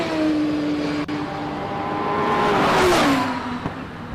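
A Gould race car accelerates up the course at the Simola hill climb, its loud engine note climbing and sweeping past close by in one sustained rising pull lasting a few seconds.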